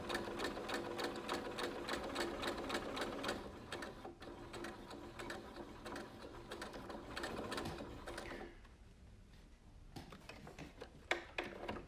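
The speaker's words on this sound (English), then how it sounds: "This is an extra stitch, just in case the first one rips, securing it." Sewing machine stitching ultralight gaiter fabric, a steady fast mechanical whirring run that slows and stops partway, followed by a few quieter, intermittent bursts of stitching with brief clicks.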